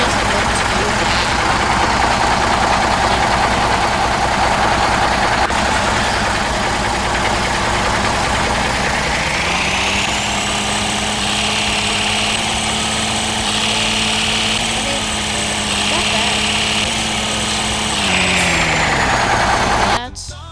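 The smallest tractor's engine runs with a steady droning hum, rising in pitch midway as it revs and holds, then dropping off at the end; no speech.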